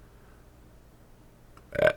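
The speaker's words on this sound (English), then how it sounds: "Burps." After drinking a Doppelbock beer, a man lets out one short, close burp following a quiet pause.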